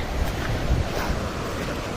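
Kalu waterfall on the Harishchandragad trail, a steady broadband roar of rushing, falling water, loud and continuous with no one speaking.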